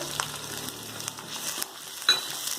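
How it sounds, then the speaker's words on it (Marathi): Onion frying in hot oil in a pan for ragda pattice, a steady soft sizzle with a few light clinks and stirring scrapes, close and moderately quiet, no voices. "तेल व्यवस्थित गरम झालं की आता आपण याच्यामध्ये कांदा टाकून घेऊया"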